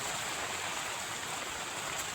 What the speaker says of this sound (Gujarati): પાણી કાઢું તાપડામાંથી